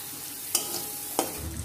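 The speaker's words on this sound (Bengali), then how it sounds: "এবার পেঁয়াজগুলো আমি লাল লাল করে ভেজে নেব।" Onions fry with a low steady sizzle in a pan, salted, as a spatula scrapes through them twice with sharp clicks.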